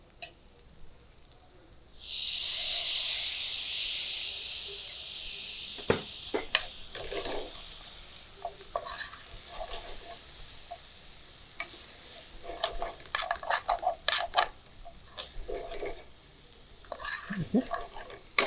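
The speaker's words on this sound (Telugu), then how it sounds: "ఆనియన్స్తో పాటు టమాటోస్ కూడా మంచిగా ఫ్రై అవ్వాలి" Onions and tomatoes fry in a pan over a lowered flame for a potato and capsicum masala curry. A loud burst of sizzling is followed by intermittent scraping and stirring clicks, with the sizzle fading to a soft hiss.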